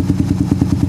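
Motorcycle engine at idle, a steady close-up putter with regular pulsing beats, loud and alone, with no voices.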